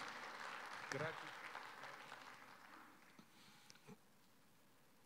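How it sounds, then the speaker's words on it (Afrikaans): An audience claps hands at a church service, a dense steady patter of many hands that fades out over a few seconds. "Ja, klap vir hande."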